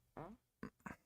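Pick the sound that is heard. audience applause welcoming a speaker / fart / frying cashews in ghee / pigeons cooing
fart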